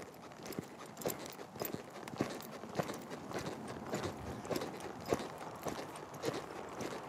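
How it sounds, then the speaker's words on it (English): A ridden horse cantering during a stop-training session, with soft rhythmic hoofbeats in a steady three-beat pattern at moderate distance, faint and continuous without talk. "Put her in the canter."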